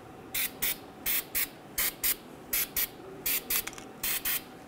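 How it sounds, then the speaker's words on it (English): An aerosol can of copper spray hissing onto a Toyota Tacoma's wheel hub in short bursts, about a dozen quick sprays in uneven pairs, close and fairly loud, with no talking. "We're going to use some copper spray and spray the hub."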